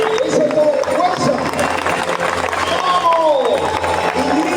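A church congregation claps and cheers energetically in a loud, reverberant hall, steady crowd noise with shouts and a voice calling out over it.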